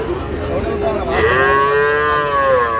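Cows and calves at a busy rural cattle market in Dinajpur, one long, loud nearby moo rising and holding over the murmur of the crowd.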